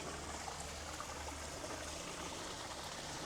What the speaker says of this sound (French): Avec les cascades